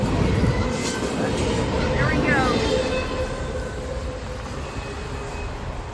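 A BNSF freight train rolls past a rail crossing in Palmetto, Georgia, a steady loud rumble of cars with faint squealing wheels throughout, while a person speaks briefly over it.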